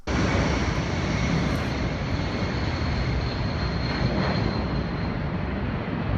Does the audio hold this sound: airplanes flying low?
yes